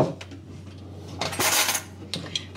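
Cutlery and dishes clink in a home kitchen while tea is being made, with a few light metallic taps and a louder rattle of utensils in the middle, close by and without speech.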